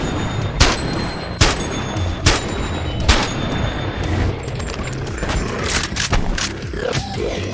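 A STEN submachine gun fires in the VR game Boneworks, its shots coming as evenly spaced loud cracks with a slow rhythm, followed by quieter mechanical clanks and rattles.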